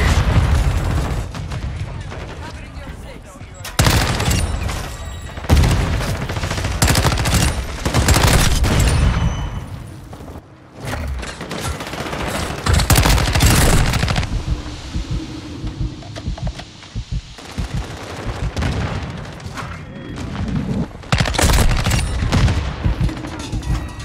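Mortar strikes pound down in Call of Duty Modern Warfare 2, heavy booms and blasts alongside rapid gunfire, loud and dense throughout with brief drops between explosions.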